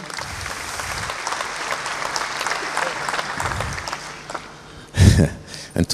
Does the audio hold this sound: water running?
no